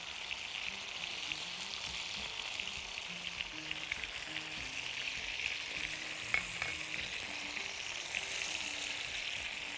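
Kofta frying in a pan with a cube of butter, giving a steady, close hiss and sizzle with soft stirring clinks throughout.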